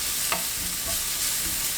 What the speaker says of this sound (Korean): 당근 넣고 20초 볶아주세요.